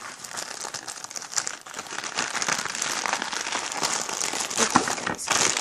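Plastic packaging crinkles and rustles as it is cut open, a busy, close run of crackling and crumpling with small tearing bursts, continuous and alone.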